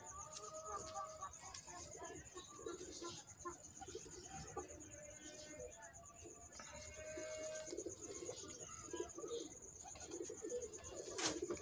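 Soft Teddy pigeon coos and faint bird calls sit under a steady background hiss, with a high constant tone running throughout.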